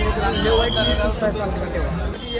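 Busy crowd chatter at a market near a beach in Goa: a dense, steady blend of many nearby voices with no single speaker standing out.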